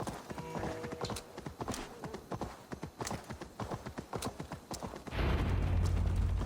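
Horse hooves clip-clopping in a steady rhythm up close in the game Assassin's Creed Valhalla, with a brief whinny, ending in a sudden loud rushing burst of noise.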